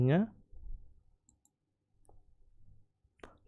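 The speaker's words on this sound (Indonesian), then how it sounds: "Kita klik domainnya." A computer mouse clicks a few times, short crisp taps spaced apart in an otherwise quiet room, with a brief burst of speech at the start.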